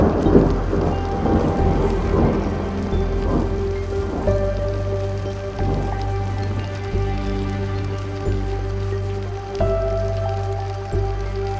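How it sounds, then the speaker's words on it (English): A heavy rain downpour pounds steadily on surfaces in Vatican Square, Rome, with low rumbling thunder rolling underneath, sounding dense and continuous throughout. "is starting to turn into a downpour in Vatican Square."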